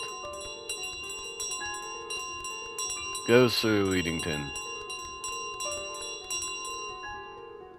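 A bell carried by the goose in Untitled Goose Game rings steadily and jingles brightly throughout. A louder ringing swell comes midway, and someone speaks over it.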